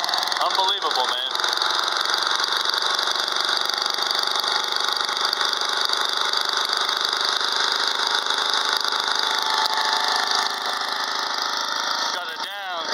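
A Lickity Split and CLS log splitter's small engine idles steadily and loudly throughout, a constant mechanical drone with a slight change near the end.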